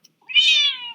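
A single clear cat meow, close and fairly loud, rising then trailing off over about a second, with no other sounds around it.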